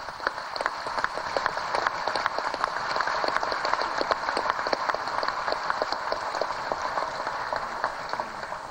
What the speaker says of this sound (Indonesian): Sepatutnya lah sekali lagi kita berikan aplaus kepada beliau.